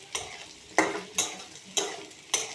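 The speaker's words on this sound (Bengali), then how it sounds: "এই যে মাংস ভাজা" Meat frying in oil with dried chillies in a wok, stirred with a utensil: five sharp scraping strokes at a steady rhythm over a continuous hiss of sizzling, close and alone.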